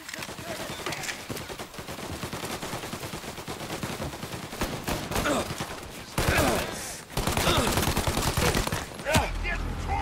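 Dense, continuous gunfire from a firefight in the game Mafia: Definitive Edition, with overlapping bursts and loud swells near the end, and speech mixed underneath.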